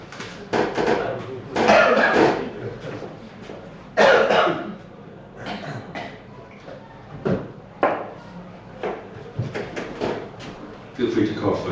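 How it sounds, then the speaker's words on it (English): Several loud, harsh coughs in separate bursts, with quieter rustles and knocks between them in an indoor room during a trombone poetry performance. "Feel free to cough when I cough"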